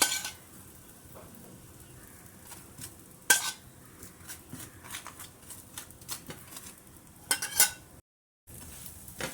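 Coriander fritters sizzle softly in oil in a pan while a utensil scrapes and clinks against it, with a few sharper clatters as they are flipped, close by and moderately quiet.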